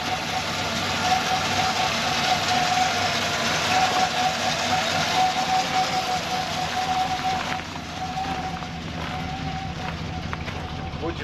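An old Ford Falcon XB engine in a backyard build turns over and settles into a steady, fairly loud run, with people talking over the rumble throughout.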